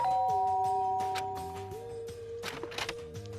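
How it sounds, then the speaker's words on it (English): A video game doorbell rings with a clear, close two-tone chime, followed by a few soft clicks and shuffles. "There's a doorbell next to the door."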